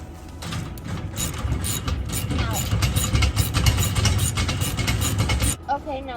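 A socket ratchet clicks steadily against a continuous low engine-like rumble while bolts are tightened on the exhaust header of a 1993 Fleetwood Southwind motorhome with a blown header gasket. The ratcheting is close and dense, and voices can be heard faintly.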